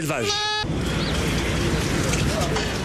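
Sheep bleat at a farmers' protest beside the Eiffel Tower in Paris, one clear close bleat at the start followed by crowd noise and talk from people nearby.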